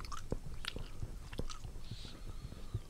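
Soft, steady chewing and biting of boysenberry ice cream, close and intimate, with small wet mouth sounds repeating throughout and no talk.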